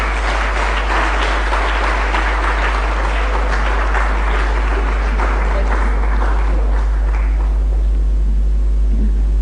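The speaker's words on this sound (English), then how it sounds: "Please give him another round of applause." Sustained audience applause for a minister at a Ghanaian public event, a dense crowd clapping that thins out toward the end with no talk over it.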